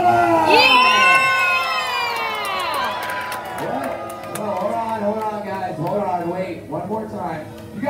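An audience in Orlando, Florida erupts in loud cheering and shouting for a performer named Cooter, children's high voices prominent, the roar starting strong and tapering into scattered whoops and chatter.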